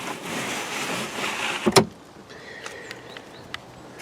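Manual wind-up rear window of a 2016 LADA Granta 1.6 8v saloon being cranked down, a short burst of cranking and glass sliding followed by a sharp clunk as it stops, then faint creaks and small clicks in a quiet cabin.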